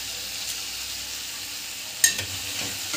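Spices fry in hot oil for a prawn curry, giving a steady bright hiss that fills the whole clip, with a brief sharp clatter of stirring near the end.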